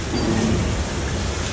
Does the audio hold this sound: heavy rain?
yes